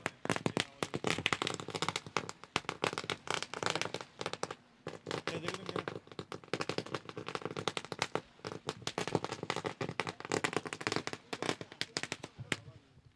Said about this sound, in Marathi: तर पाहुण्यांचं मात्र नक्कीच आपण फटाक्याच्या आतषबाजीने मात्र इथे स्वागत केलं.